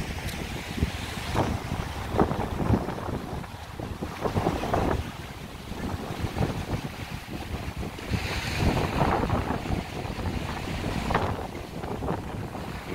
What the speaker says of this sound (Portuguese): Olha a ventania aí, ó. É só porque não tem um prédio aqui, já entra um vento rachando aqui.